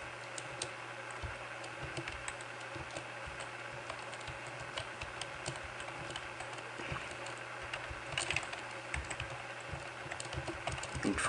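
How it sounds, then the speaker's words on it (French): Steady typing on a computer keyboard, in irregular runs of light clicks over a constant background hum, close by and faint throughout, without speech. "Et ici, on tape I."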